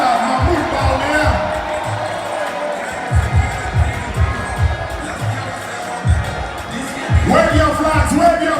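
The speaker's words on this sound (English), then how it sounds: "a big round of applause for Dr. Awwh Bawumia" An audience at a political rally cheers and applauds for Dr. Bawumia, with crowd noise rising in rhythmic surges and whoops under an announcer's amplified voice.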